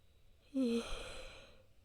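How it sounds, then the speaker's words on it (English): A single drawn-out yawn with a rising, breathy voiced tone that trails into a soft exhale, close and fairly quiet. "Sorry for the yawn."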